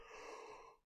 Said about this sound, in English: Sorry for the yawns here.